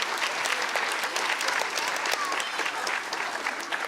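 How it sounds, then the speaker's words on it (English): Audience applause at a primary school kindergarten music hour, a dense steady round of clapping from a crowd, loud and continuous, with a little voice mixed in. "Let's give him one more round of applause."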